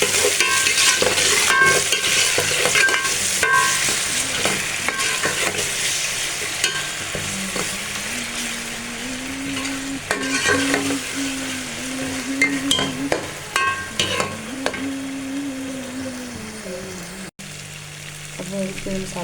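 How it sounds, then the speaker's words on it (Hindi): Onions fry steadily in a pan with ginger, garlic, tomato and green chili, with occasional stirring and clinks of a utensil, a soft voice murmuring beneath. "प्याज हमारा फ्राई हो जाएगा"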